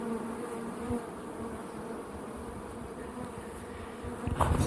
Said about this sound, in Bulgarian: Голям, силен рой.